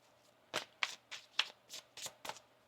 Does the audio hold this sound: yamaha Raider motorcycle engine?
no